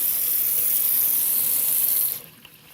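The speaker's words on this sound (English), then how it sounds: "We got a little bit more water." Water poured into a hot frying pan of eggs sizzles and hisses loudly and steadily for about two seconds, then drops off sharply to a faint crackle.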